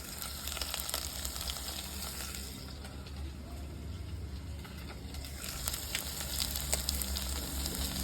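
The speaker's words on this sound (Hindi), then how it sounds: "आलू और शकरकंदी फ्राई कर लूँ देसी घी में।" Potatoes and sweet potatoes frying in desi ghee, a steady close sizzle with crackling pops throughout and no talking.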